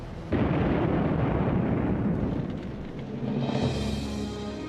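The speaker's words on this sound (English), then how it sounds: "the Lexington, still afloat, suddenly erupted in a huge explosion" A sudden deep boom erupts from leaked aviation fuel igniting aboard the World War II aircraft carrier Lexington, then rolls into a heavy, sustained rumble that slowly settles before swelling again.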